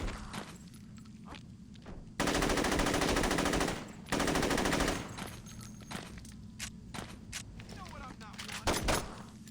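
Rapid automatic gunfire in the video game Saints Row 2, loud sustained bursts of around two seconds each alongside scattered single shots and thuds, with a person talking in between.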